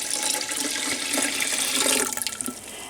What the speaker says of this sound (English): we're going to pour the rest into this one